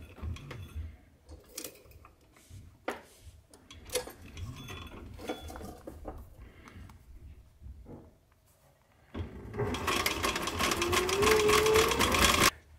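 Sewing machine stitching a leather belt pouch, with scattered handling clicks and taps first, then a steady close machine whir building over the last few seconds.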